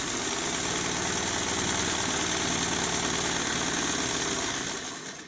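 A sewing machine running a zigzag stitch along garment seam edges to keep them from fraying; a steady, close, rapid mechanical chatter runs continuously before winding down at the end.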